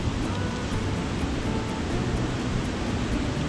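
Steady broadband rush of a waterfall near a wooden bridge with slip matting, heard at a holiday park in County Wicklow; continuous, even roar with no distinct events.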